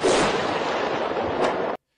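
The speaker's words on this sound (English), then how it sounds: "You're going to hear the boom from the bomb. And then you're also going to hear the boom from the secondary." A bomb blast from a strike in the Lebanon and Gaza war, with a secondary explosion from rockets being hit: a dense, sustained roaring boom that rumbles for nearly two seconds with a second swell, then cuts off abruptly.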